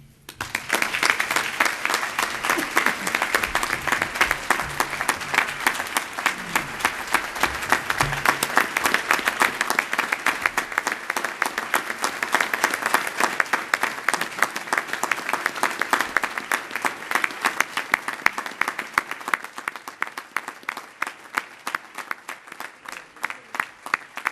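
A Rotary audience gives a long, loud ovation for an award recipient, rhythmic clapping that falls into unison beats and carries on for over twenty seconds.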